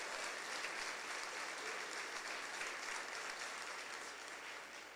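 A church congregation breaks into sustained applause for several seconds, a dense, even clatter of many hands that tapers slightly toward the end, with no speech over it.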